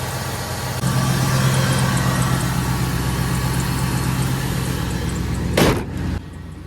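A 305 TPI 5.0 V8 in a Camaro cranks and runs at a steady, close idle for several seconds, ending with a sharp burst of noise before settling lower.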